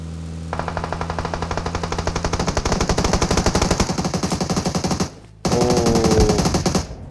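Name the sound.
gunfire from Groza or AUG rifles in PUBG Mobile video game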